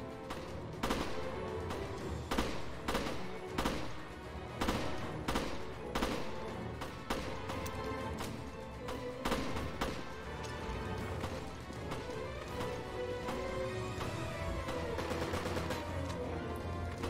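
Gunfire in the Resident Evil Revelations video game rings out as sharp, evenly spaced single shots, several in quick succession then scattered, each a crisp crack over a steady droning game ambience, fairly close.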